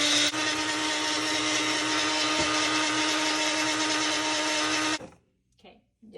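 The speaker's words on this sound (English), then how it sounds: "Okay, so I'm about to blend." A countertop blender whirs at a loud, steady pitch while dissolving aquarium salt into water, running continuously for about five seconds before cutting off abruptly, followed by faint handling noises.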